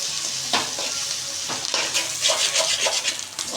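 Fish roe frying in a pan, a steady close sizzle broken by a few sharp stirring scrapes and crackles, with no voices over it.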